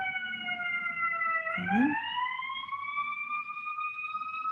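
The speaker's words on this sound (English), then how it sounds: "apologize if you can hear that siren here through my headphones" A siren wails outside during a crafting session, a steady sustained tone that dips and then climbs again as it passes. It stays moderately loud throughout, and someone briefly says a word.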